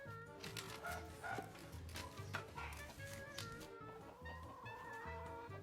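Chickens cluck and squawk nearby in scattered bursts, with light shuffling and rustling underneath.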